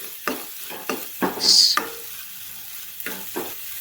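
Onions frying in a pan with turmeric for a quick paneer bhurji, giving a soft sizzle broken by repeated scraping strokes of a spatula stirring close by, with one brief louder hiss partway through.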